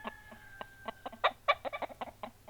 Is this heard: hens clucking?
yes